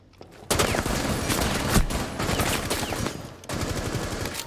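Sustained SMG automatic fire in a Rainbow Six tutorial level: loud, rapid bursts with dense crackling shots, a brief pause near the middle, then another long burst, close and continuous over game ambience.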